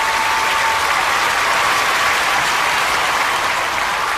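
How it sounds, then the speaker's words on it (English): Studio audience applause at the close of a children's dance show, a dense, steady wash of many hands clapping at once, loud and sustained without a break or any voices. "just listen to that applause"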